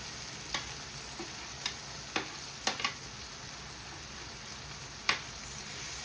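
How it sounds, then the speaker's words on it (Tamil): A spoon stirs chicken and potato patty filling with green chilies and curry leaves in a pan over a faint steady sizzle. A few scattered clinks of the utensil against the pan sound up close. "இதை நல்லா இப்போ மிக்ஸ் பண்ணிட்டு விடலாம்."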